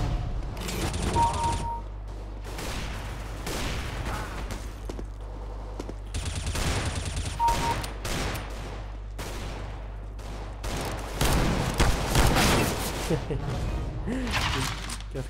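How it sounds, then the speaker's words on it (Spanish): Revolver gunshots in the video game CS:GO, several sharp shots in bursts spread across the clip amid game mechanism clicks and background noise, with a player talking faintly. "Se le ha dado un disparo."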